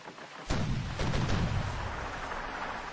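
Ship cannon fire in the 2004 Windows version of Pirates, a single heavy boom followed by a rolling, rumbling tail of smaller blasts that fades slowly.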